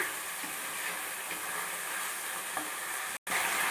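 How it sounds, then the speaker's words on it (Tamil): Curry leaves and coriander sauté in a pan for a kadamba fish gravy, a loud, dense, steady sizzle with faint stirring, cut by a brief break near the end. "இப்போது கருவேப்பிலை கொத்தமல்லியை சேர்த்துடணும் சேர்த்துட்டு நல்லா வதங்கட்டும்"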